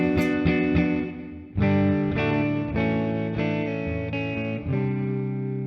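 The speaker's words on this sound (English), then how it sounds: "I'm gonna switch the pedal off to hear the unprocessed tone." Electric guitar played through an unprocessed signal path with the SmartPedal switched off, sustained chords and notes ringing with strong harmonics, close and loud, changing every second or so, with no talk.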